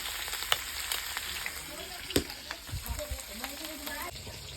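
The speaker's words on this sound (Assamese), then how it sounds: "এতিয়া মাংসখিনি গোটেইখিনি প্ৰথমতে ভাজি ল'লোঁ" Boiled meat frying in a wok: a quiet, crackling sizzle with scattered sharp pops and clinks of stirring, faint and somewhat distant throughout.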